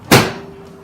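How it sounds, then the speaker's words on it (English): A microwave oven door shuts with a single sharp, close thump followed by a short fading ring. "close the door."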